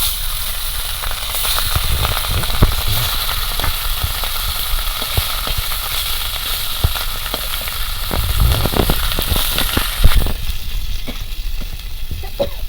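Hilsa fish sizzling and crackling in hot oil in a pan, a steady dense hiss with scattered pops throughout, close and fairly loud, no talking.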